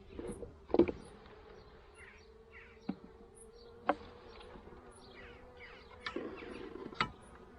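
Honeybees buzzing at an opened hive during a queen cell check, a low close hum running throughout with scattered sharp clicks and knocks from handling the frames.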